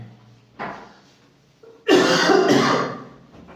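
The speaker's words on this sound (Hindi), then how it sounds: "खांसी हो गया आज" A person coughs twice nearby, one short throaty cough followed by a longer, harsher coughing burst.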